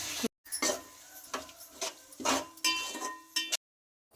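A spoon scrapes and stirs through a pot of egg pulao, freshly topped with coriander and mint leaves, in a series of close, irregular scraping strokes with faint sizzling and brief silent gaps at the start and end.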